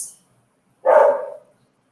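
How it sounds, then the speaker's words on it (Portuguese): Pipe, a pet dog, gives a single short, sharp bark close by, preceded by a brief high hiss and followed by silence. "Vocês ouviram agora o latido de Pipe?"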